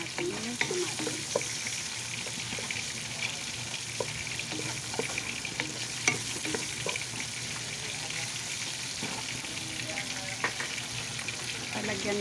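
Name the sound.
tomatoes sautéing in a pan for ginisang sayote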